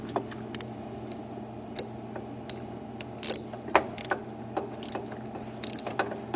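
Bolt and nut being tightened on the swing arm of a Victory Cross Country motorcycle, giving sparse, crisp ratchet clicks and metallic ticks at irregular intervals over a low steady hum, close and fairly quiet, with no talking.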